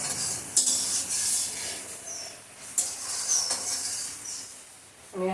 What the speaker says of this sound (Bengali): এলাচ দারচিনি ফোড়নে দিয়ে দিয়েছি